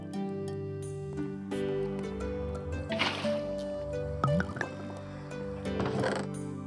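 Water bottles being filled in the video game Minecraft, a few short liquid splashes and gurgling fills at separate moments over a steady background of game music tones.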